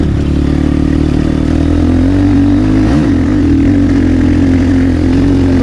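A motorcycle engine drones loudly and continuously while riding uphill, with a brief rev swell midway over steady wind and road noise.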